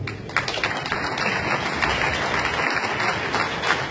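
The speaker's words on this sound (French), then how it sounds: "On peut l'applaudir." An audience at an awards ceremony applauds with a steady, dense, fairly loud roll of clapping that holds throughout.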